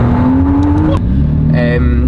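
McLaren Artura with its 3-litre V6, the first V6 McLaren has built, revving loudly up close with a rising engine tone; a voice speaks over it.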